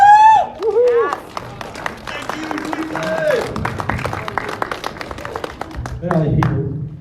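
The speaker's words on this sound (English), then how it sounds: "There are all these people clapping." Convention panel audience clapping and cheering in a hall, a steady wash of applause running beneath close, loud talk and a whoop.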